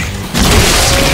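A loud boom bursts in about a third of the way through an explosion in the action shooter Shadow Warrior 2, then settles into a dense, sustained rumble with no speech.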